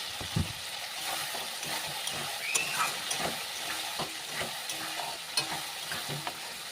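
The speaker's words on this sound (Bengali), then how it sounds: "আমি এখন আলুটা দিয়ে দিলাম" Potatoes tossed into a masala made without onion or garlic, frying in oil and stirred: a dense sizzle with repeated scraping stirs and occasional clinks, close by with no talk.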